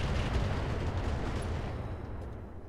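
Mech weapons fire in the BattleTech game Roguetech, a dense, steady rumble of booming artillery-like blasts that stays loud throughout and eases off only slightly near the end.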